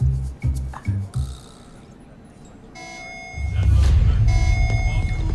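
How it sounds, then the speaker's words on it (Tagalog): An electronic alarm sounds with steady repeating beeps and tones, loud and close, after some brief thumps and a quiet pause. "Alarm na naman. General alarm to."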